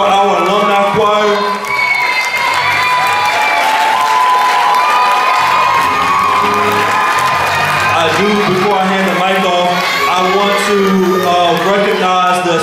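A school drama audience applauds and cheers for an alumni choir on an encore night, a loud, dense crowd roar with whoops and shouts sustained throughout, and voices and tonal sounds running through the din.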